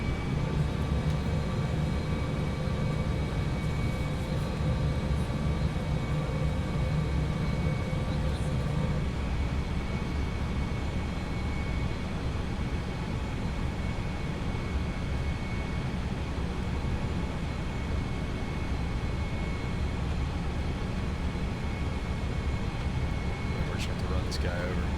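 Inside an Airbus A320 rolling along the ground after landing, a steady engine drone and cabin rumble hold evenly throughout at moderate level, with a voice talking faintly underneath.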